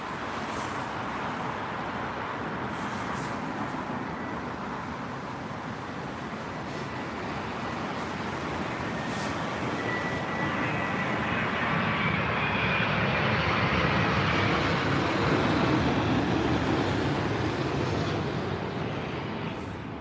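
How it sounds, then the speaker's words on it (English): A Boeing 787-10 airliner from Seattle passing at London Heathrow, a broad continuous engine roar that holds steady and swells slightly toward the middle, heard from a distance with no voices over it. "So that's a 787-10 from Seattle, I believe"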